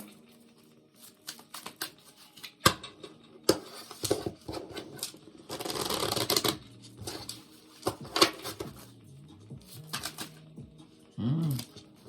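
A deck of Romance Angel oracle cards is shuffled in a quiet room, giving scattered soft clicks and a dense riffling patter in the middle, with a short burst of voice near the end.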